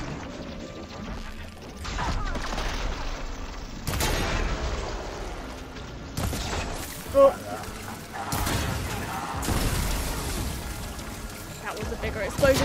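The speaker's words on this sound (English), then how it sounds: "That was a bigger explosion than I anticipated." In the action game Horizon Forbidden West, crashing, booming explosion noises burst repeatedly amid combat, with loud impacts that stop and start again, and a woman exclaims briefly during them.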